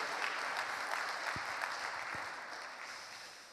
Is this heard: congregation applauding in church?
yes